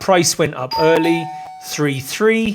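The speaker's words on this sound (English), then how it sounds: "That is the doorbell." A doorbell chimes once, a steady ringing tone held under ongoing conversational speech.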